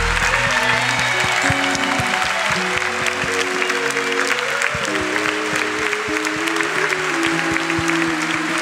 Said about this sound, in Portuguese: você que está em casa, aplauda também